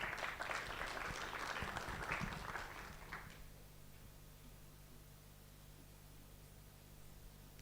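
A brief burst of clapping from a modest audience fades out after about three seconds, leaving a low steady hum and background noise.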